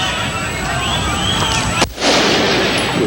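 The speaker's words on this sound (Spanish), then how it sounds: "Eso fue disparo, ¿no?" A single loud, sharp gunshot cracks out, preceded and followed by noisy, rumbling game-like background sound.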